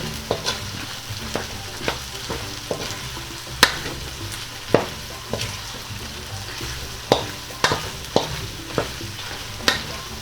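Bicol Express with shrimp paste sizzles in a pan while a spoon stirs it, giving a constant frying hiss under a string of irregular clacks and scrapes against the pan.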